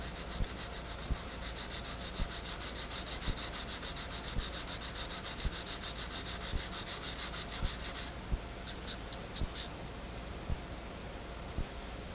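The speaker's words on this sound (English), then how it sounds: "You can see me trying to put some scratches to follow the grain." Steady abrasive rubbing as wood veneer is scratched along the grain during refinishing, a continuous hiss with faint rhythmic strokes, close and even, stopping briefly near the end.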